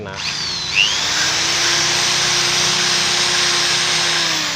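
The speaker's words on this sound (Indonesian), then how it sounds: "Perhatikan bor ini" A power drill lapping a motorcycle engine valve whines steadily at high speed throughout, with a brief rise in pitch near the start and faint scraping beneath.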